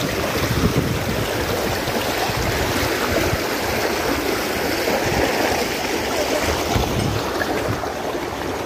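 Lightly flooded river water rushes under a bridge in front of Sukuna campus, a dense, continuous roar mixed with some wind buffeting on the microphone, with no voices.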